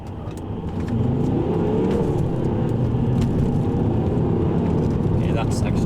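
A Volvo C30 on Nokian Hakka Black 3 tyres accelerates hard from first gear on a slightly wet road, a steady loud engine roar with tyre and road noise building after the first second and holding throughout.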